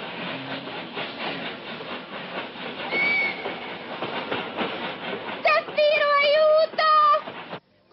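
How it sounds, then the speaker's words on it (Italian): An animated train rolls past with a rhythmic clickety-clack and a rushing rumble, then sharp whistle-like squeals near the end, all fairly loud and with no talk over it. "È un treno, figliolo."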